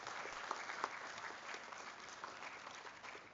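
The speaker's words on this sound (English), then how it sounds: "Please join me in welcoming Ms. Hemalata Murugeshan with a round of applause." An audience at a live college event claps steadily in a sustained round of applause, moderately distant and filling the whole moment.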